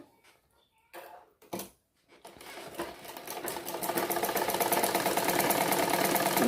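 A sewing machine double-stitching the front seam of a bra-cut blouse, a few short bursts at first, then a steady, building run of fast rhythmic stitching, close and alone.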